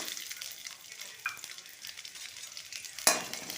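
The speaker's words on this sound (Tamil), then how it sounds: "அடுத்தது நம்ம கொஞ்சமாக ஆயில் சேர்த்து சின்ன வெங்காயத்தை சேர்த்துடலாம்." Small shallots fry gently in a little oil, giving a soft, continuous sizzle. A spoon stirs and scrapes against the pan now and then, with one sharper clink near the end.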